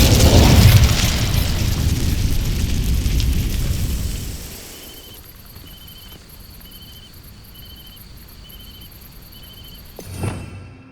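The Incendio fire spell in Hogwarts Legacy sets dry vines ablaze with a loud, roaring whoosh and crackle of flame that fades after about four seconds, leaving quiet ambience with chirping insects and a soft thump near the end.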